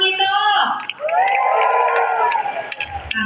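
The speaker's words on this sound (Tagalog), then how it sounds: "pumalakpak po na may kasamang hiyawan ang lahat" A morning crowd at a public event in Taguig cheers and shouts, with a little clapping, in a lively burst that starts after a short voice and carries on steadily.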